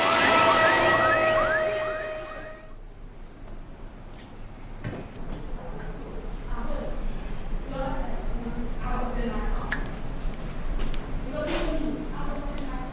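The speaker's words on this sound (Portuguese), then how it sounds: "a ambulância corria para a Clínica Santa Eunice," An ambulance siren in the opening seconds, a loud wailing tone that fades out after about two seconds, followed by quieter scattered street or indoor noise with a few brief clicks.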